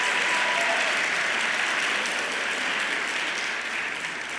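Guests at a gala for entrepreneurship awards clap in a sustained, dense round of applause that stays even and full, easing slightly toward the end, with no voices over it.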